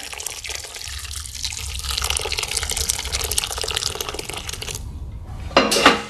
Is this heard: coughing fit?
no